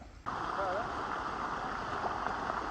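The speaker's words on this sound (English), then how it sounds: "You can hear some falling water off in the distance." A constant soft rush of falling water hangs in the background, even and far off, with a brief faint chirp near the start.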